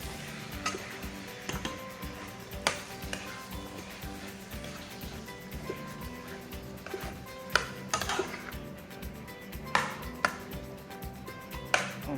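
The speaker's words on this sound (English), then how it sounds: "let me give it a stir." Spoon stirring mixed vegetables into rice cooked with coconut milk in a pot, a series of faint clinks and scrapes at irregular intervals over a quiet kitchen background.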